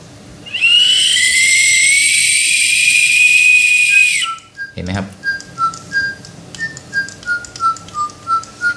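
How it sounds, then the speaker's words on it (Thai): A sustained whistle blast lasts about four seconds, then a Joypalette toy bird answers with a series of repeated chirping, warbling notes at close range. "โอเคผมจะเป่านกหวีดต่อนะครับ"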